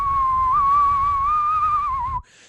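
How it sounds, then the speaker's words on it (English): A singer sings a sustained, airy whistle-register note, thin and pure with a slight waver, held steadily for about two seconds before cutting off abruptly. "you know that's called the whistle register"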